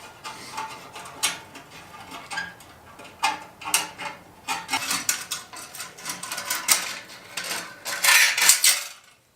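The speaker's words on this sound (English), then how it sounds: "It takes a 5/16 or a flathead screwdriver." Working on the exhaust clamps of a 2018 Harley Road Glide with a flathead screwdriver: close-up, irregular metallic clinks, taps and ratchety scraping, coming in uneven bursts that build and grow busier toward the end.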